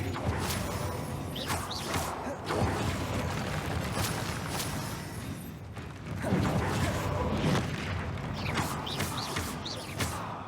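Spell blasts in the video game Hogwarts Legacy, including Confringo, burst amid dense mechanical creaks, whooshes and crashes in ongoing loud combat.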